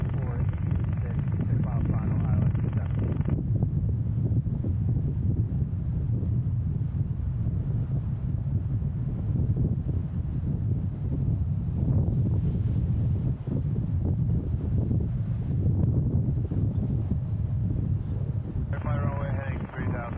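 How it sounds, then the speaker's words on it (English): Strong wind at Boston Logan International Airport buffets the microphone as a continuous low roar throughout, with a person talking over it and bursts of radio chatter near the start and end. "The wind is getting stronger than I expected."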